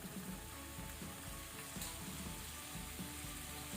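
Soya chunks fry with tomato, chili and soy sauces in a pan over a low flame, producing a dense, continuous close sizzle with faint stirring scrapes.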